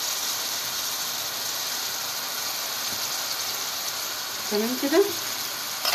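Cabbage frying in a pan with a pinch of cinnamon stick, a steady soft sizzle and hiss throughout, with brief scraping stir sounds near the end and a short spoken phrase.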